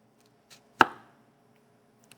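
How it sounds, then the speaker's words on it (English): A kitchen knife cuts through food using its tip: one sharp, close chop rings out clearly against near silence, followed by a couple of tiny taps. "You don't have to cut all the way to the end, but now we're using the tip of our knife."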